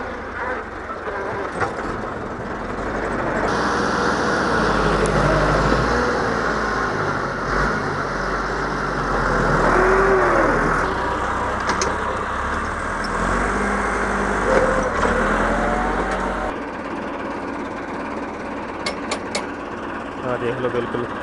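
A 1996 Massey Ferguson 375 tractor works with a 10-foot rear back blade in a Punjab village, its diesel engine droning continuously and loud, swelling slightly under load, while someone talks over it.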